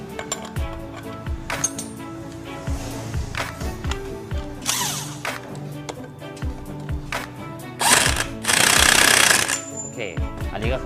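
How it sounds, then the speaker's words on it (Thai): Electric impact wrench fastening the clutch nut on a four-stroke automatic motorcycle, with loud rapid rattling bursts among metallic clinks and tool handling, close by, plus some talk. "เสมอเสร็จแล้วให้ใช้บล็อกไฟฟ้ายิง"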